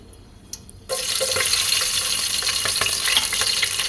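Spices and a green chili dropped into hot oil, a sudden loud sizzle bursting in after a quiet moment and then holding as a steady crackling fry for a few seconds.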